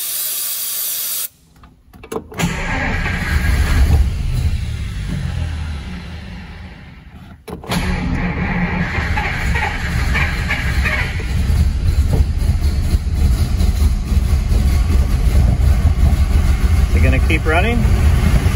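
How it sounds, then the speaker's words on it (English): A classic car left sitting too long cranks and catches on a shot of starter fluid, the engine running loud and rough with steady hissing after a brief pause, while people talk over it. "I'm going to put everything back together and we'll try to fire the engine again."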